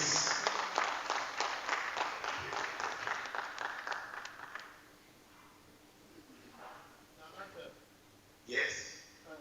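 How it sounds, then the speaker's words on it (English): An audience at a development administration seminar applauds a speaker, a dense burst of clapping for about four seconds that thins to scattered claps and murmur, with a faint later flurry. "Please give him a round of applause, please."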